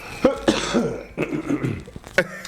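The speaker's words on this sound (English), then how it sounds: "Hit the little cough button." Several coughs and throat-clearing bursts at close range, spaced irregularly across a couple of seconds with no talking.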